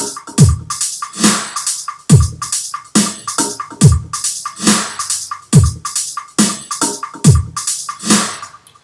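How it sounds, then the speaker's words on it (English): A punchy drum pattern with booming kicks and snappy hits, each trailed by echoing delay and a wash of reverb, loud and steady. "a little bit of reverb that makes your drums sound a little bit more full"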